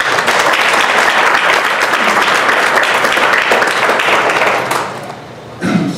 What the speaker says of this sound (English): you all deserve a round of applause for all of your work